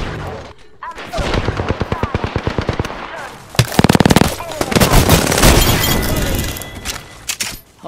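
Gunfire roars in the battle royale game Apex Legends: loud, rapid automatic bursts rattle almost continuously, then a denser crackling barrage with shattering impacts takes over before tapering off.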